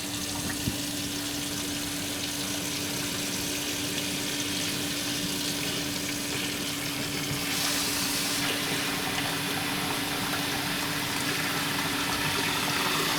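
Hot water runs steadily from a tap fed by a newly installed 6 to 11 gallon water tank, a continuous close rushing stream with a slight rise in force partway through and no talk.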